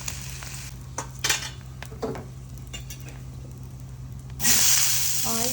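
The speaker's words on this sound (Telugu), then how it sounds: "మసాలా పట్టించిన ముక్కల్ని ఈ ఆయిల్లో ఫ్రై చేసుకోవాలి." Masala-coated paneer pieces fry in oil, a faint sizzle with a few clinks of a utensil against the pan, then a louder burst of hissing near the end.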